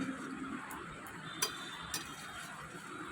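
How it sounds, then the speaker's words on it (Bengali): Chicken stomach, liver, head and neck pieces being dry-fried down in a pan, a low continuous sizzle broken by a couple of sharp spatula scrapes and clinks, close and without talk. "এখন খুব সুন্দর করে একদম শুকনো করে কষিয়ে নিতে হবে।"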